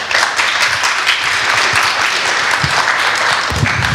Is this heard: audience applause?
yes